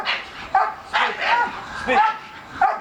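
A Bull Terrier gives a few short, sharp yips and barks on command, spaced irregularly and close by.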